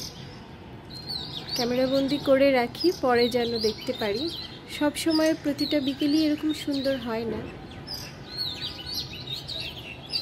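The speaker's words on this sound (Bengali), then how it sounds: "পাখির ডাক শুনতে পাচ্ছেন" Small birds chirp and twitter around a high-rise balcony among trees, bright repeated calls in bursts, while someone talks over much of it.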